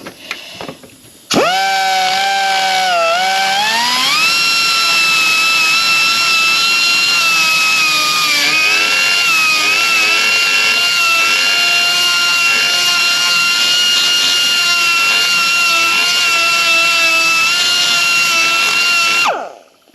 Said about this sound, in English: And sorry about the noise, but you know, die grinder.